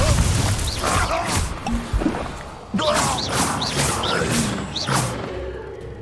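A Confringo fire spell bursts in Hogwarts Legacy combat, a series of loud whooshing blasts and crashing impacts layered with game effects and brief voice calls.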